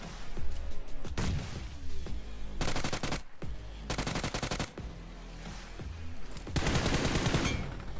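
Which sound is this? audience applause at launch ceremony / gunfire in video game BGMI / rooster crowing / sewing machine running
gunfire in video game BGMI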